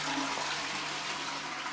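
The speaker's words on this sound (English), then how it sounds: "It's a toilet flushing, but it works." A toilet flushing during a final home inspection, a steady loud rush of water that holds for the whole stretch with no one talking.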